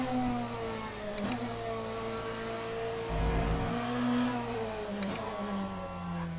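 Hypercar engine in the racing game Le Mans Ultimate, a flat, steady drone with a sustained harmonic hum and brief shifts in pitch, loud and continuous with no talking.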